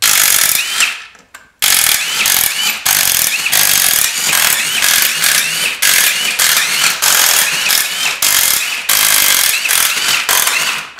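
Bolts on a Duramax pickup's transfer case being undone with a power tool, which makes loud, repeated rattling bursts separated by short pauses, with one brief near-silence early on.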